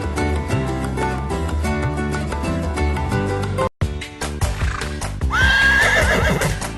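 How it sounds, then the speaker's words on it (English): A horse whinnies loudly near the end over cheerful music, with clip-clop hoofbeats sounding earlier in the piece. "horse"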